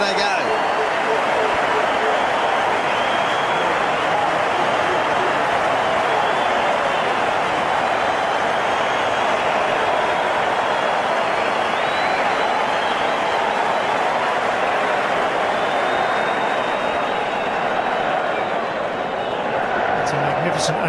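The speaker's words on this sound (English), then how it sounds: "They get a chance to clap a second time now." A large cricket crowd keeps up a dense, unbroken wash of applause and cheering, loud and steady throughout with no pause.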